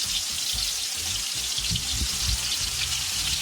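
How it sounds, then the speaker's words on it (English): Potatoes and carrots fry together on a tawa, giving a steady, close sizzle with a bright crackling hiss and soft low bubbling that keeps an even level all the way through. "I'm here frying potatoes and carrots together"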